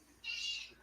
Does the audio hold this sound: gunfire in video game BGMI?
no